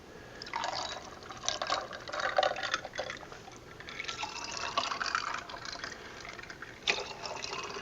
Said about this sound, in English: Top it on off with some lemonade.